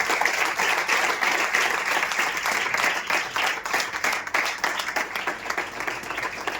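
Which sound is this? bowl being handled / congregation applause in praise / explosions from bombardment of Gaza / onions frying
congregation applause in praise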